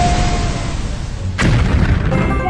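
An animated robot with a camera for a head fires a weapon beam, heard as a sustained roaring blast. A sudden booming burst hits partway through and lingers in a loud, wide rumble, with no talking.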